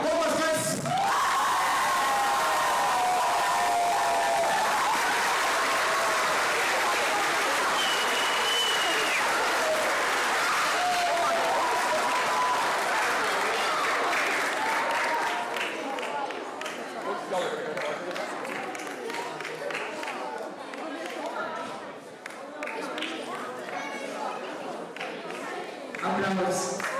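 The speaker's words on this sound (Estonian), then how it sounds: "Aplaus." An audience claps and cheers at a school playback contest, a dense roar of applause with whoops and voices that gradually thins out toward the end.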